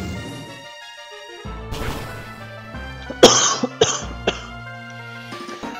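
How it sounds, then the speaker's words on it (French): Several short, close coughs from someone who has fallen ill, heard in quick bursts over a Pokémon SoulSilver game's background music, with a sharp knock among them. "Excusez-moi si je tousse mais je suis tombé malade."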